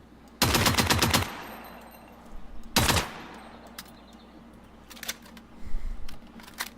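Video game gunfire shooting into the ground: a long automatic burst, then a second short burst, then scattered quieter shots and clicks, loud and close with no talking.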